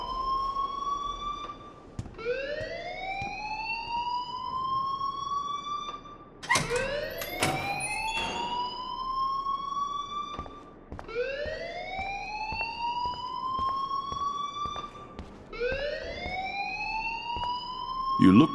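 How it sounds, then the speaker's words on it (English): A fire alarm in the game Life Is Strange wails in repeated rising sweeps, roughly every four seconds, loud and close. A voice talks over it briefly partway through. "please turn off that alarm since that's your job"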